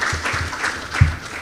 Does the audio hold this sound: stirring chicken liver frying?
no